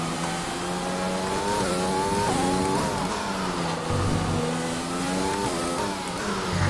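An F1 car engine howls on a qualifying lap in F1 2020 at the Spanish Grand Prix, loud and continuous, its pitch rising and falling through gear changes as the car accelerates and brakes.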